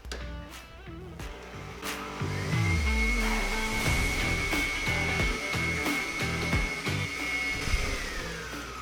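Electric stand mixer beating room-temperature butter with sugar into a pale cream, a loud steady motorized whir that rises in pitch as it starts and runs continuously, with clattering of the beaters in the bowl.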